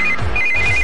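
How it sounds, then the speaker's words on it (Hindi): A telephone ringing in a Hindi-dubbed film scene, an electronic ringtone with two short bursts of tone, loud and close, with no talking over it. "इस वक्त दीदी का फोन।"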